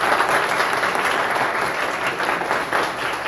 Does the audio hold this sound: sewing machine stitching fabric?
no